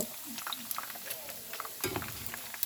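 Pork frying in oil: a quiet sizzle with scattered crackles and pops, plus brief scraping and stirring clinks, all fairly faint.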